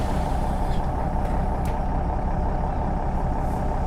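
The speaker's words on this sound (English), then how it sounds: "Start the bus up." An MS Omnidekka bus engine in the OMSI 2 bus simulator runs with a loud, steady low rumble and an even, constant drone throughout, with no voices.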